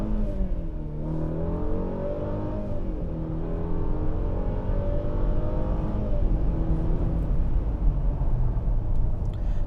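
A 2021 Mercedes GLE 350 luxury SUV with a four-cylinder engine pulls hard under acceleration, its close, steady engine note rising through the gears over a constant road rumble, with no talk.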